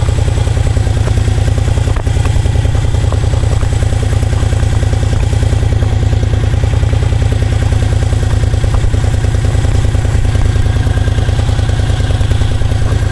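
A 2001 Moto Guzzi EV80 Anniversary Model motorcycle engine running at a steady pace during a ride, with a loud, close, even pulsing thrum and light mechanical clatter throughout, with no voices.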